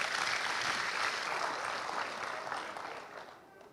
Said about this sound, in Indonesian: tepuk tangan dulu untuk adik-adik kita